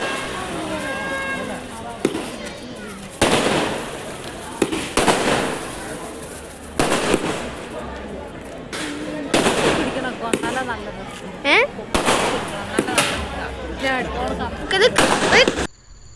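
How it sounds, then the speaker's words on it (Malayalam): Festival fireworks burst at a village celebration, a series of loud, sharp booms and crackling volleys at irregular intervals, some whistling rockets, with people talking in between. "പിന്നെ വെടിക്കെട്ട് ഇത് അടിപൊളിയായിട്ട് നടക്കുന്നുണ്ട്"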